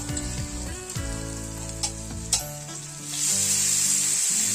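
Fresh prawns sautéing in a hot pan for a Malvani-style dish, bright continuous sizzling with stirring clinks and a couple of sharp utensil taps, growing hissier toward the end.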